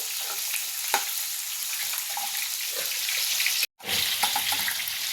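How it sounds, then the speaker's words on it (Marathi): Chopped onion fries in hot oil, making a steady close sizzle with a few brief clicks and a short dropout partway through, with no speech. "आता तिन्ही हे एकत्र आपल्याला छान परतून घ्यायचे तेलावर."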